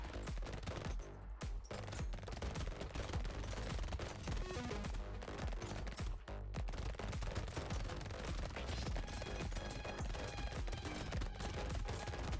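Cursed SMG in the video game Brotato firing in dense, continuous rapid bursts, loud and close, with layered game effects and brief pauses throughout.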